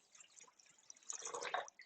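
Five cups of water poured into a bowl for pupusa masa: a close, wet splashing and trickling that builds in the second half and then tapers off, quiet and without speech.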